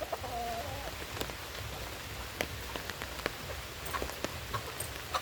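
Brief chicken cluck at the start over a steady patter of rain with scattered drips, near and fairly quiet, with no voices.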